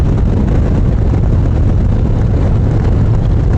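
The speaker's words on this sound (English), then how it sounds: "hope I'm not getting too much wind noise today, but it does seem pretty blustery now" Heavy, constant wind buffeting on a microphone during a blustery motorcycle ride through the Arizona mountains, a loud low rumbling roar with no breaks and no voice.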